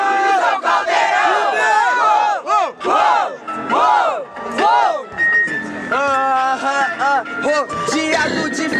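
Crowd at a rap battle final chanting and shouting hip hop together, loud and close, with rising and falling call-and-response yells in repeated waves.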